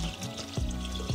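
Water pours into the mixing bowl of a Monsieur Cuisine Smart kitchen machine while Asian chicken soup with carrot is made, a short splashing gush close up with two brief surges.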